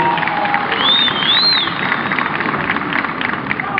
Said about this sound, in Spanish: Fuerte aplauso, por favor.